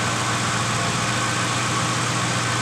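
A car engine idling with its RPM not holding perfectly steady, giving a continuous broadband drone with a low hum and no pauses, fairly loud and alone throughout.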